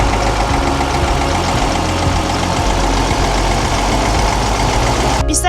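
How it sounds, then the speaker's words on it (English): A Hyundai 220HD excavator's refurbished diesel engine runs at a loud, steady idle with a constant low rumble, close to the listener and with no talking. "The engine is like the heart of the machine. Let's start it and see how it performs."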